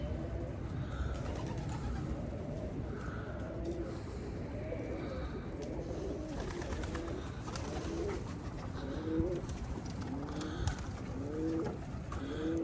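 Soft pigeon coos repeat steadily over a constant outdoor background hum, several birds calling at moderate distance.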